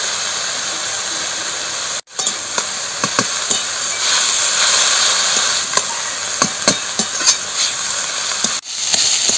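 Red amaranth greens frying in hot oil with salt and turmeric: a continuous loud sizzle broken by scattered clicks and scrapes of stirring, with two brief dips where the sizzle drops out.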